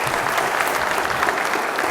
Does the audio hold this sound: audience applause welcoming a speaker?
yes